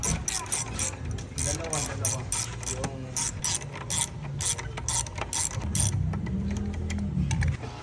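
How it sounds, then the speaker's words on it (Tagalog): Steady ratcheting clicks come from pliers and a size 14 wrench loosening a wheel nut on a Honda Click 125 scooter, a close rapid mechanical chatter running under a speaking voice. "Gumamit lang ako ng plies dyan tsaka size 14 na wrench."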